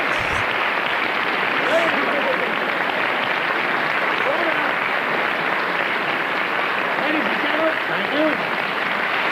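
Sustained audience applause fills the whole stretch, a dense even roar of many hands clapping with scattered cheers and whoops rising from the crowd.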